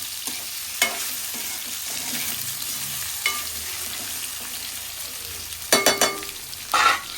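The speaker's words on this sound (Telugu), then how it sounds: "సపరేట్గా ఫ్రై చేయకుండా ఇదే ఆయిల్లో వేసేసాను" Eggs and boiled taro root frying in oil in a pan, giving a steady close sizzle with a few louder scraping stirs near the end.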